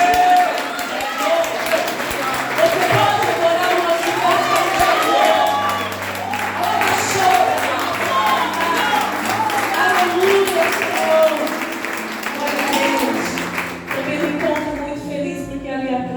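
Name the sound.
church congregation applauding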